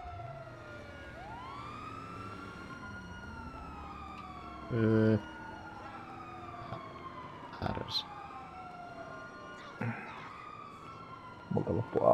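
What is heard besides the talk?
police car sirens in GTA V video game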